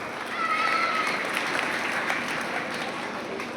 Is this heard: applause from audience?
yes